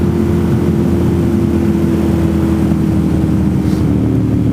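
A Ducati Monster motorcycle with a worn chain and sprockets is ridden, producing a loud, steady engine drone with a strong low hum and wind rush throughout, with no voices heard.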